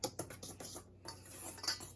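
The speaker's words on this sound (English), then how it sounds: "all of them go together and you whisk it around just like this here" Salt, ginger and other ingredients whisked briskly in a bowl, giving continuous close metallic clinking and scraping with a rapid, even rhythm.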